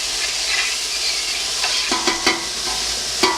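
A pepper blend sautés in a pan, giving a steady close sizzle with a few sharper spatula clicks and scrapes near the end.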